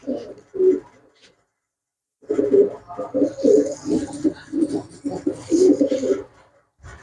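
Pigeons coo in low, throaty, rhythmic bursts at a pigeon market, close and fairly loud, with a brief pause before a longer run of overlapping coos.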